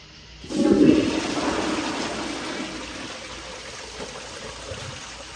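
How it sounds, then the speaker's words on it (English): A Kohler Kingston 1.6 gpf toilet flushing: a loud, close rush of water that peaks in the first second and then settles into a steady draining gush and trickle with no talk. "we'll do another flush"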